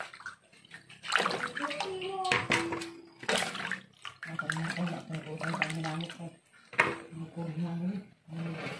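Tap water runs and splashes in a kitchen as small bananas are washed, a steady rushing flow with sloshing bursts, while people talk over it throughout.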